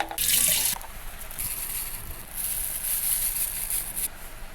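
Water splashes and runs into a container to soak nigella seeds, a close, steady gushing pour with short pauses between streams.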